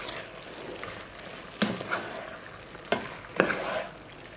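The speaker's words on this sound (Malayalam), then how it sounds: "മിക്സ് ചെയ്ത് കൊടുക്കാം." Pepper chicken is stirred in a pan, with a soft sizzle under several sharp scraping and clanking strokes of a spoon against the metal.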